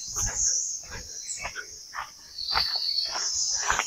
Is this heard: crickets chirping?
yes